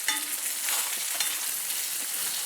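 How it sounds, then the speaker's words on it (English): Onions fry over low heat in an enameled cast iron pan, giving a steady, close, bright sizzle with faint crackles throughout and no voices. "the best way to do this is actually to over low heat to allow your onions to become translucent"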